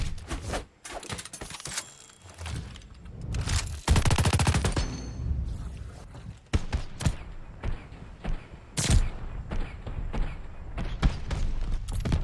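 Type 100 submachine gun fire in the video game Call of Duty Vanguard, with several rapid bursts separated by pauses, loud and close, amid other in-game thuds and impacts.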